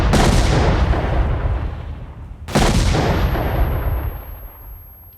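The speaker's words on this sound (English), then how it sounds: "I keep blowing myself up with 40mm grenades" Two 40mm grenade blasts in Stalker: The Way to Pripyat, each a loud, close explosion with a sharp crack that decays into a long rumbling tail, the second following a couple of seconds after the first.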